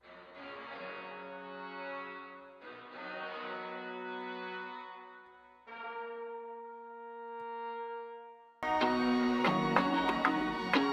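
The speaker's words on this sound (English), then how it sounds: "And then on arcade, I found this cool brass sound." Synth brass patch from the Arcade plugin in FL Studio plays sustained chords with rich harmonics, three held chords in sequence followed by a louder, brighter passage near the end, no voices.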